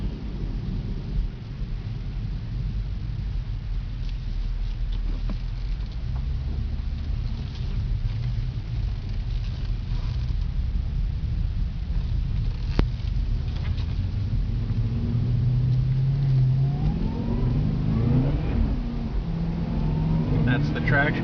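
A 2011 Cadillac CTS-V coupe, a repaired salvage car, accelerates hard up to highway speed with traction control cutting in, a steady loud engine and road roar with rising revving tones, and a person talking over it.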